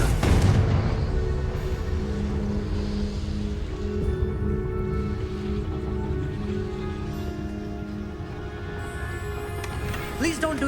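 In the Hogwarts Legacy video game, a Confringo fire spell goes off as a loud, booming explosion at the start, then a dense, crackling, rumbling wash of noise that carries on steadily, with a few sharper bursts near the end.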